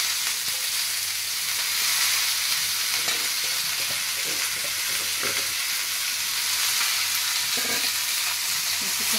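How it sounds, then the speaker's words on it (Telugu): Finely chopped thota koora greens sizzle steadily in a pan of fried onions and curry leaves, a continuous loud crackling hiss with occasional soft stirring knocks and no talking. "వేగిన ఆనియన్స్లో మనం సన్నగా తరిగి పెట్టుకున్న ఆకుకూరను పెట్టుకోవాలి"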